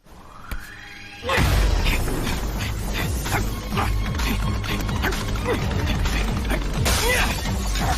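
Glass shatters as an animated character bursts through the window of a school purification room, a sudden loud crash with scattering debris over a dense, busy action soundtrack after a brief quieter lead-in.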